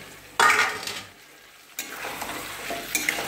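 Boiled jackfruit pieces are stir-fried in a pan for a vegetarian curry, with sharp bursts of sizzling and a spatula scraping and clinking against the pan, loud and close, pausing briefly before the frying resumes.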